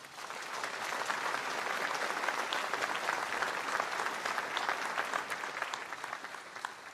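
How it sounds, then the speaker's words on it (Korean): A large audience claps steadily and loudly, sustained applause filling the whole stretch without a break. "재원 의원 유족회에 큰 박수 부탁드립니다."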